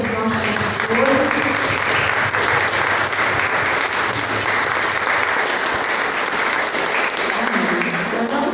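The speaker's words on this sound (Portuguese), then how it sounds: "Vamos aplaudir ao Senhor pela vida dos nossos professores" A church congregation applauds throughout, in a steady, dense wash of clapping that holds for the whole stretch, with a few voices and some music faintly audible underneath.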